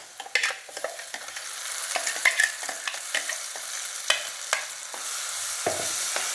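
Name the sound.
ground paste added and stir-fried with onions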